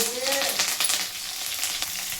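Onion sizzles steadily in hot tempering oil for a village-style Karnataka bassaru, a bright, continuous crackle with occasional stirring scrapes close by.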